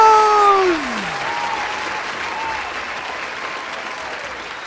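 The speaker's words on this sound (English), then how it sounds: "Applause!" A concert audience breaks into loud, sustained applause, many hands clapping in a dense roar that follows a brief falling tone and fades slightly toward the end.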